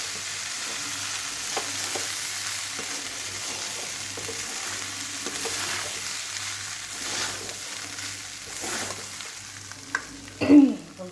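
Chire polao of soaked flattened rice is stirred and mixed in a hot pan, a soft steady sizzle with intermittent spatula scrapes and a louder clatter near the end, no talking.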